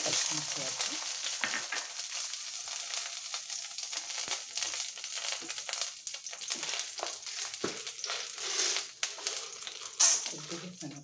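Green chillies fry in oil in a pan for beetroot pachadi, giving a continuous close sizzle and crackle with occasional stirring scrapes and little talk.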